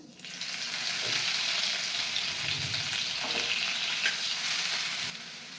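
A continuous, bright sizzle of garlic frying in hot oil after mustard seeds and cumin, close up and fairly loud, holding steady before cutting off abruptly.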